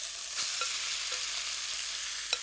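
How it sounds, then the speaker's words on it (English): Chicken mince sizzles softly and steadily in a hot pan, with a few light clicks of a spoon stirring now and then. "You can hear that sizzle. That's what we're looking for."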